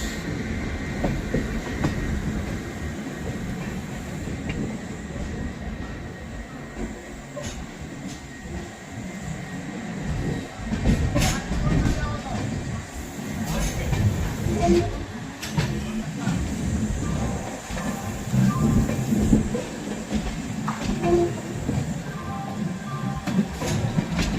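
An Amrit Bharat Express train runs steadily on the rails with a continuous rumble and rhythmic clickety-clack of wheels over joints, heard from inside at moderate loudness.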